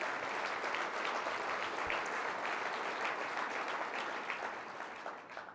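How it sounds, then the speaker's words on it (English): A crowd at a 2018 State of the City Address applauds steadily with dense clapping that holds for several seconds, then fades out. "Let's give Bell MTS a huge round of applause for their ongoing investments in our community."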